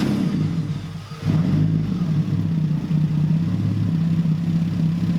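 A Lexus car engine cranks and catches, then runs and revs in a loud, close mid-pitched growl with rising and falling surges.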